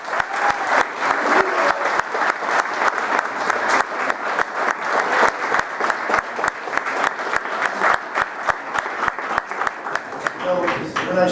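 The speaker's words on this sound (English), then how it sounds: "So these children deserve another round of applause for the good work they do." An audience at a CPCU fire safety awards ceremony gives a long round of applause for the children, many overlapping claps forming a dense, steady roar that runs on for several seconds, loud and close, without talk over it.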